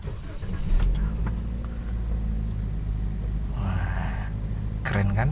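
A 2021 Toyota GR Sport with a CVT gearbox is started, a deep steady engine rumble building and holding at close range, with a brief higher mechanical chirp partway through and another burst near the end.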